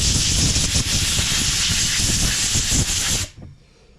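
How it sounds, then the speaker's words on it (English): Loud, steady compressed-air hiss blows dust off a Harbor Freight ETQ TG1200 generator that sat for years, held close for about three seconds before cutting off abruptly, with no talk. "Blow the dust."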